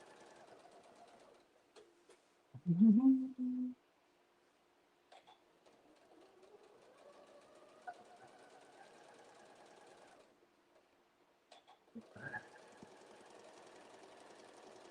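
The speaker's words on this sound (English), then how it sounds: "Nice to see it stitching well after I've changed the bobbin." Sewing machine stitching quilt fabric, a soft steady mechanical whir that runs in stretches and stops between them, close and quiet, with a short louder burst of another sound near the start.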